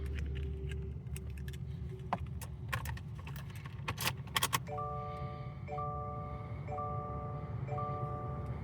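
Keys for a 2025 Subaru Outback are handled near and clearly, giving a few scattered metallic clicks and jingles against a steady low background hum, with no talking.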